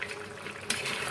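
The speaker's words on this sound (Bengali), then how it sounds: "দেখো ফুটে গেছে" A pot of bottle gourd and lentil dal boils, with soft bubbling and liquid burbling that swells briefly partway through, quiet and close.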